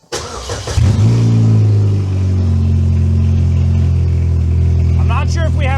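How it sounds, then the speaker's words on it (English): A project car's engine cranks and catches, then settles into a loud, steady rumbling idle close by, with a brief rev at the start and people talking quietly over it toward the end. "Let's see if this thing's gonna start up."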